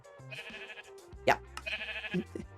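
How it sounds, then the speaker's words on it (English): Sheep in modded Minecraft bleat repeatedly, wavering nasal cries overlapping with game music tones and a few short clicks, moderately loud. "And that way we don't have quite so many noisy sheep."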